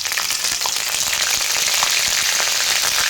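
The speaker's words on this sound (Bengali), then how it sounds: "ফোড়নের জন্য দিয়ে দেবো তেলে জিরে গোটা জিরে দিয়ে দিলাম গোটা এলাচ দিয়ে দিলাম এক চামচ আদা বাটা" Whole cumin seeds, whole cardamom and a spoonful of ginger paste sizzle in hot oil, a steady, loud, crackling fry that holds without pause.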